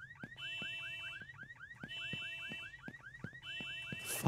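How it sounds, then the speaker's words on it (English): An alarm system goes off in a video game, a cycling electronic siren of rising chirps and steady beeps repeating in regular bursts, fairly quiet, with a sharp noise burst at the end. "I should switch off the alarm system as soon as possible before anyone else wakes up."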